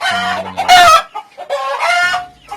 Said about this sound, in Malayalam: ഇതാണ് ചാമ്പൽ കോഴി